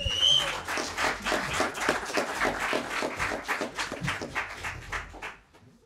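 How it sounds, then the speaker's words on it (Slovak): Small audience clapping in a steady rapid patter of hands, close and fairly even, lasting about five seconds before fading out. "Veľký potlesk."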